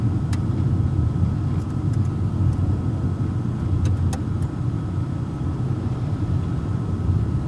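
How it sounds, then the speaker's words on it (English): A car drives past on a rural road in Western Australia olive country, a steady, fairly loud low rumble that holds level throughout with no sharp peak. "I'm going to let this car go past."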